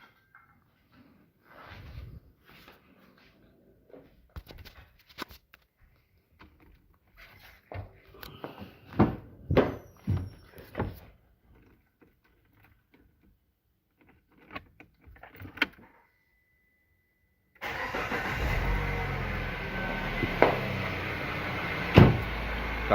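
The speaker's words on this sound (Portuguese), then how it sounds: "Carrinho bem sereno, som de THP mesmo, não som de diesel." A Peugeot 3008 with the THP petrol engine, faulty and out of timing with error P0012, cranks and fires up after scattered handling clunks, then settles into a steady, loud idle.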